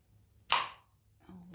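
A jar of homemade strawberry jam, sealed while still warm, gives one sharp pop as its lid comes free. The sound is close and clean, followed by a brief faint rustle.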